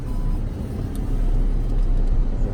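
A 2.0-litre diesel Skoda Octavia on a test drive, with a steady low engine and road rumble from inside the cabin, continuous and fairly loud.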